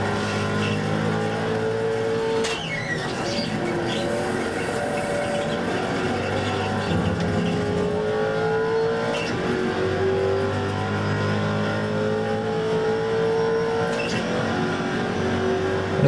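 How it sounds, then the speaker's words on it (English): Several Mazda Miata race cars in iRacing, a league GTC race, drone steadily and loudly throughout, engine pitch rising and falling through gear changes, with a brief tire squeal and cars passing close by. "it was Jeremy in the leading Miata there that I passed"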